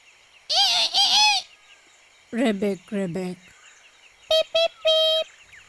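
A little blue cartoon bird chirps in bright, whistly bursts: a long warbling trill, a run of quick rising tweets, then a few short clipped peeps, loud and close with silence between.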